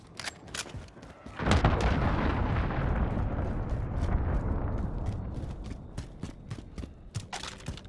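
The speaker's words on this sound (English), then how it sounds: "Allied cruise missile away" Cruise missile launch and explosion in a video game: a heavy roaring blast swells and rumbles for several seconds, while scattered sharp gunshots crack before and after.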